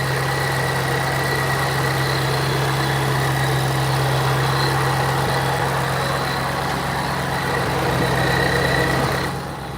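Supercharged car engine with a Whipple blower idling in a garage, a steady loud rumble with a constant drone and whine, unbroken for about ten seconds before it drops off briefly at the end.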